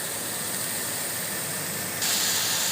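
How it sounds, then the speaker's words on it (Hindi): Kebabs frying in hot oil for karahi kebab, a steady close sizzle and hiss that grows louder near the end. "ये देखें माशाल्लाह काफ़ी फ्राई हो चुके हैं।"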